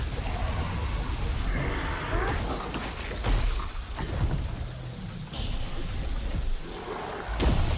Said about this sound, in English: Some kind of magical ritual that makes it rain.